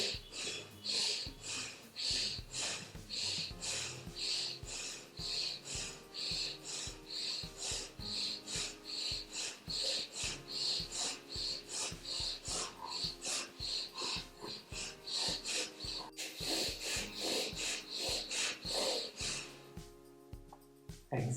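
Rhythmic deep breathing during a yoga practice, a long run of regular, forceful inhales and exhales, close and fairly loud, repeating steadily throughout.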